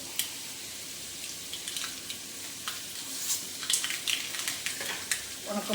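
Dried red chillies and onion fry in a pan with a soft, steady sizzle and crackle, growing a little busier toward the end, quiet and close with no talking.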